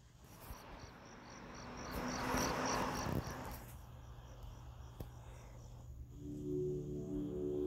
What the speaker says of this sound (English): Please adjust your volume until you can hear crickets on the screen.